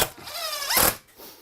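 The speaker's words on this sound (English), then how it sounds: "Let's get a couple of screws in this bad boy" A power drill whines up and down in pitch as it drives a screw into an electrical box during bathroom wiring work, close and loud, with a short rising burst then a quieter tail.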